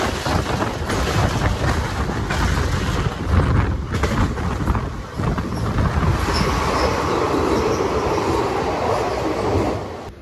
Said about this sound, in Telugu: ఇప్పుడైతే మన ట్రైన్ ఇలా డౌన్ అయితే దిగుతుంది.